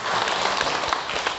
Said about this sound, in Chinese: 掌声啊！